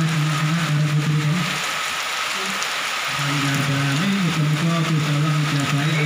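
Steady rain falling during an outdoor gathering, a constant loud hiss of drops with a low droning tone running underneath for most of the time.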